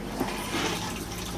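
Antifreeze rushes through the toilet of a 2024 Cherokee Grey Wolf 26DBH Black Label travel trailer during winterizing: a short, steady, close watery flush with no voices.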